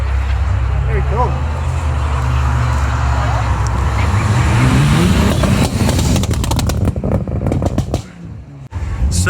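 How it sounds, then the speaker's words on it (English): Cars arriving at the second location of a car meet at LincsRedline: a continuous rumble of engines and traffic with one engine rising and revving partway through, and voices mixed in. "The cars are coming in now."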